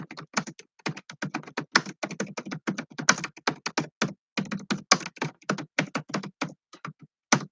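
Quick bursts of typing on a computer keyboard, clusters of crisp key taps with short pauses between words, close and fairly loud with no talk.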